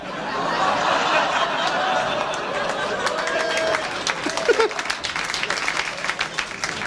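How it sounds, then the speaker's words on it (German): Audience applause at a live comedy show in Zurich, a dense, steady clatter of many hands that swells, then breaks into scattered claps and chuckles near the end. "Das gibt einen Applaus."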